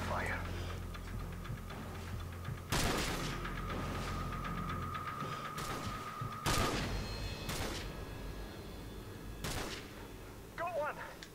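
Gunfire in Call of Duty 4: Modern Warfare, with sharp rifle shots cracking at irregular intervals over a steady background of battle noise.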